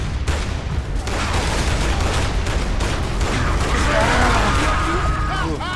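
Gunfire in Gears of War: Judgment, dense bursts of shots and booms forming a loud, continuous barrage, with voices talking over the battle.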